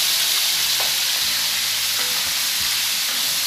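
Thin pork sausage fries in a pan with a steady, loud sizzle, while fat pops in scattered sharp crackles over the constant hiss.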